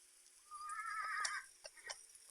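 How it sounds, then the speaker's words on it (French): In the video game 99 Nights in the Forest, a horse gives a brief, quiet whinny, followed by a couple of soft hoof-like thuds. "T'as entendu le cheval?"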